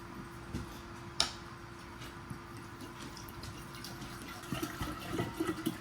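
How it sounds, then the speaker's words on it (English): Distilled water is poured into a kombucha vessel, a soft, steady trickle with occasional light drips and a small clink, growing a bit louder and more splashy toward the end. "I try to make sure I keep it consistent when I'm pouring the distilled water"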